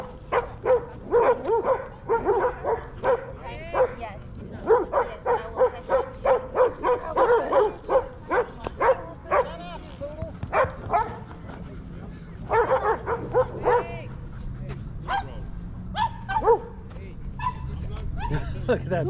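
A poodle and a German shepherd bark, yip and whimper at each other in a scuffle, with repeated sharp close barks in bursts and people talking over them.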